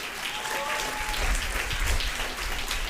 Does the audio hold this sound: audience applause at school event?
yes